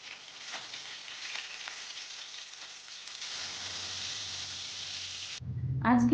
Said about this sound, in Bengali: এবার মাছ ভাজা এই তেলের মধ্যে আমি সামান্য পরিমাণ কালো জিরে ফোড়ন দিয়ে দিলাম।